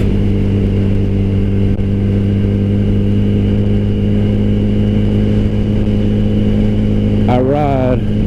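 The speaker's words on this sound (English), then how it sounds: "I ride a 2007 Yamaha R1." A 2007 Yamaha R1 motorcycle engine drones loudly and steadily up close, then gives a brief, sharp rising rev near the end.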